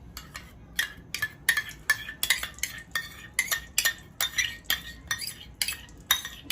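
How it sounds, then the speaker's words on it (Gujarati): Ghee spooned into a kadai for beet laddu, heard as a quick series of sharp metallic clinks and scrapes of a spoon against metal, close and fairly loud, with no talking. "તો સૌથી પહેલા આપણે ઘી એડ કરી દઈશું કડાઈમાં"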